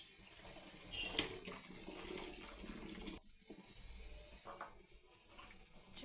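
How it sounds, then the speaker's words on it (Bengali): Hot water drains off washed cauliflower in a steady, quiet pour and trickle that cuts off partway, leaving faint dripping and a soft splash afterward. "পানিটা ছেঁকে নিব।"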